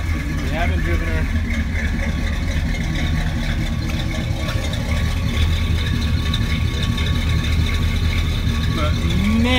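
A 1974 Buick Gran Sport with a 455 V8 idles cold on a lift, a loud, steady low rumble filling the whole stretch, with someone talking over it.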